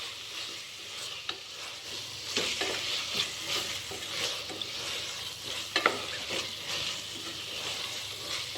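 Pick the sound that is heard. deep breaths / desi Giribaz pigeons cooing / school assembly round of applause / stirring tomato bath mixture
stirring tomato bath mixture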